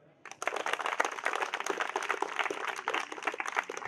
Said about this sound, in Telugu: ఒక్కసారి బిగ్ క్లాప్స్.